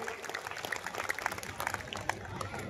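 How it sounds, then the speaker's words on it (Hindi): Audience applause at a Hindi kavi sammelan (poetry gathering) held by a Durga festival committee in Ganjpara: a steady, fairly faint patter of many hands with scattered sharper claps, heard alone. "एक बार पूरा सदन जरा हाथ ऊपर करके जोरदार तालियां बजाकर इस कवि सम्मेलन को शुरू करने की अनुमति दे"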